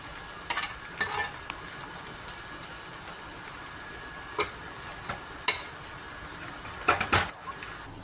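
Rice upma crisps in a pan over a low flame, a faint steady sizzle broken by scattered light clicks and scrapes of a spoon, close by with no talking.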